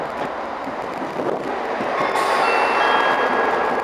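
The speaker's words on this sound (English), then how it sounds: "The train now reaches platform 4." Steady rumbling of a Turbo train that grows louder midway, with high metallic squeal tones appearing as it rolls into platform 4 at Didcot station, no voices.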